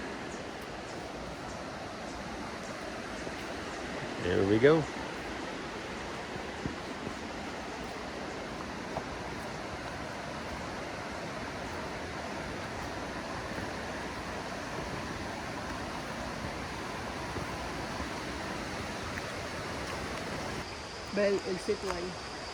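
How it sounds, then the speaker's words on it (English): Rio Savegre, a cold mountain river in Costa Rica, rushes in a steady broadband wash throughout, with a brief louder burst near five seconds and a short voice near the end. "You can most likely hear the sound of the Rio, the river"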